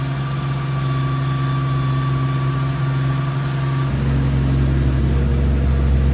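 Jeep Wrangler TJ Sport 4.0L engine idling with a worn clutch, a steady droning hum and whine that deepens and grows heavier near the end, heard close with no talk.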